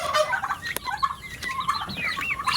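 Several pet turkeys gobble in rapid warbling bursts, a chorus of overlapping calls that rises and falls across the stretch, fairly close and with no talk over them.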